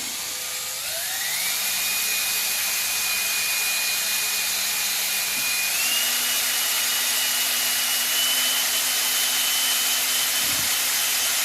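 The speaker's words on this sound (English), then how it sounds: "The whole idea of honing the cylinder" Power hone driven through the cylinder of a Kohler K241 engine from a 1977 John Deere 210 garden tractor, making a loud steady whine that holds for the whole stretch and steps up in pitch a few times, with no talk.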